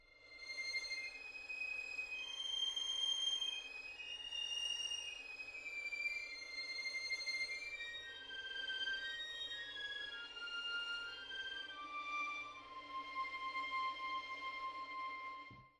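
A Cinematic Studio Strings sample library plays its scripted legato string patch: a sustained, connected melodic line of bowed strings gliding smoothly from note to note, steady and moderately soft throughout with no talking.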